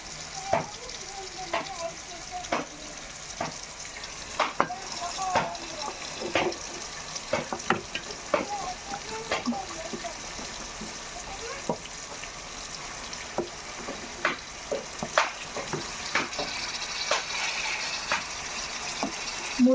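Sliced onions fry in a pan for beef curry, giving a continuous close sizzle broken by sharp scraping clicks as a spoon stirs them.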